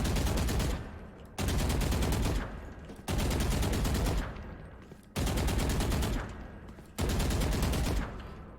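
Sustained rifle spray bursts in the Valorant video game, five roughly one-second volleys of rapid automatic fire separated by short pauses, loud and close.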